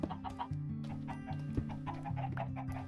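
Chickens cluck in a Minecraft-style video game, a run of repeated blocky clucks over a steady looping background tone, with no voices.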